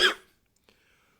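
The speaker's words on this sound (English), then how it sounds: "Sorry for the coughing." A single short, harsh cough, loud and close, followed by silence and a faint click.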